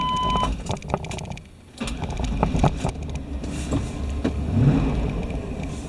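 A 1996-98 Chevrolet 4WD truck engine cranks briefly, then catches and settles into a steady running idle up close, with some clicks and rattles over the engine hum.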